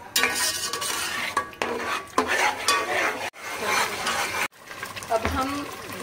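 Garam masala and spices for mutton paya are stir-fried in a pan, with scraping spoon strokes and a sizzling hiss in rhythmic bursts, separated by two brief pauses.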